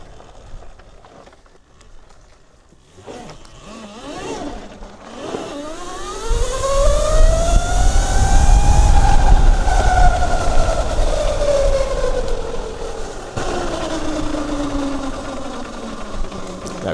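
A Zero FXS electric motorcycle in custom mode accelerates hard into a power wheelie, its motor whine rising steeply in pitch then easing off, loud and close with heavy wind and tyre rumble underneath.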